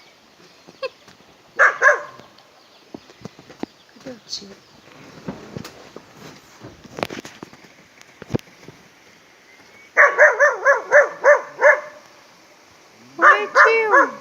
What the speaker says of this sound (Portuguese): Tem um cachorro ali, mas ele tá mais com medo agora que nós.